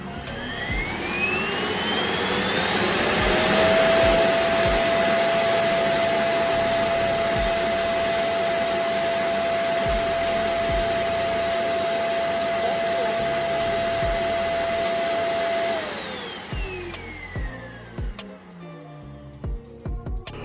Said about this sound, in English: Dust collection starts.